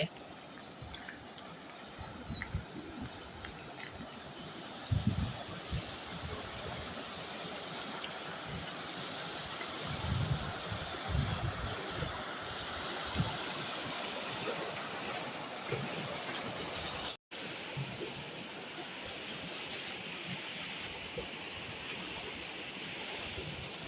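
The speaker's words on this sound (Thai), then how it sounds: "น้ำไหล" A stream in Denmark flows in a steady, broad rush of water, continuous and fairly close, with a few soft knocks and faint background voices now and then.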